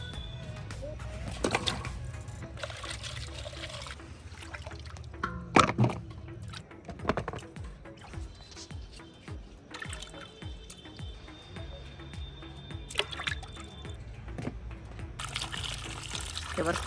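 Sweet potatoes being washed by hand in water, with intermittent splashing, dripping and sloshing at close range, several sharp knocks and clatters mixed in, over a steady low background hum.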